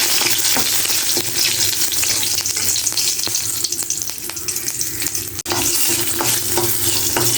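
Dried red chilies frying in hot coconut oil, with a loud, steady sizzle and crackle and frequent scraping as they are stirred in the pan.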